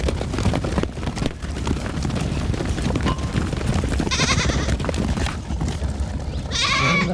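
A flock of sheep on a Karoo farm in South Africa, several bleats rising over a busy bed of hoof clatter and shuffling livestock nearby, the calls coming in brief bursts amid continuous movement.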